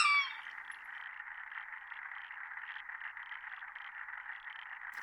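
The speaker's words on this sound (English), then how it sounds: "I couldn't believe just how loud the frogs were as they croaked in the calm conditions" Dense, continuous chorus of frogs croaking steadily for several seconds, fairly faint and even, with no voices.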